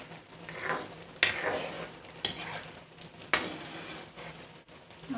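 Homemade chili garlic sauce being stirred in a pan, with a soft ongoing sizzle, light scraping strokes and a few sharp utensil clinks against the pot, close and fairly quiet.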